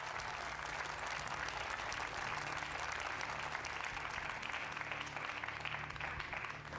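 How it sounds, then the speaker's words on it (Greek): A game show studio audience applauds in sustained, dense clapping that stays even and continuous throughout, filling the room. "Δώστε ακόμα ένα χειροκρότημα, παρακαλώ."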